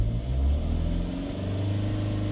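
A BMW 320d diesel engine, fitted with a DPF exhaust back-pressure sensor, is held at raised revs around 3000 RPM. It gives a steady, loud low rumble with a slight surge near the start and no talking.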